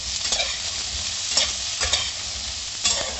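Cauliflower stalks, lightly salted, fry in a little oil with a steady soft sizzle and a few louder scraping stirs of the spatula in the pan; no voices.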